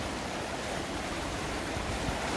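Constant rushing water flows steadily and close by through a gold-panning sluice, a dense broadband wash with no other sounds.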